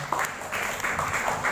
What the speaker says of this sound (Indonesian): Oke, boleh tepuk tangan untuk Pak Mekos.